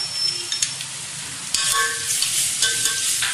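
Ginger garlic paste sautéing in a pan over softened onion for spicy mutton rassa, a loud close frying sizzle with stirring scrapes that swells sharply partway through and keeps hissing.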